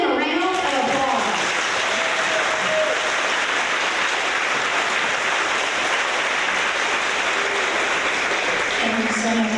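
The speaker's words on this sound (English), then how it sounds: "So let's give them a round of applause." Applause at a school fourth-grade awards event, a full, steady round of clapping from the room that starts just after a speaker's voice and continues evenly throughout.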